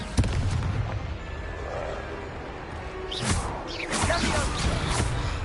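Confringo fire spell cast in the Hogwarts Legacy video game, a sharp blast at the start followed by a roaring fiery rush and crackling burst later, loud and close.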